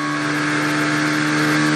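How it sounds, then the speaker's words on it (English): An Alpine Formula One car engine at a Canadian practice session as the car slows and pulls off the track, a loud, steady tonal drone with a sustained hum and no talk. "This is the sound of that Alpine."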